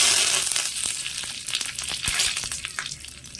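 Curry leaves hit hot oil along with cumin seeds, mustard seeds and a dried red chilli for a tempering, producing a loud, close sizzle dotted with sharp crackles and pops throughout.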